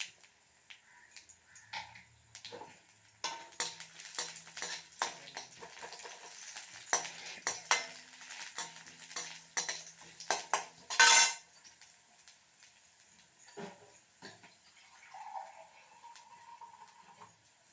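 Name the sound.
stirring garlic, chili and lentils frying in a pan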